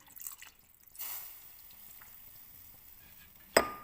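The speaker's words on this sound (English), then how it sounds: "Pour in my red wine." Red wine pours into a pot of browned meat for osso bucco, a soft liquid splash and low sizzle with a few drips, closing with a sharp clink.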